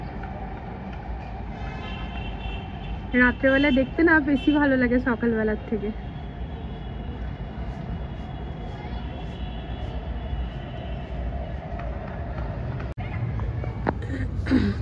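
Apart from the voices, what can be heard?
metro train passing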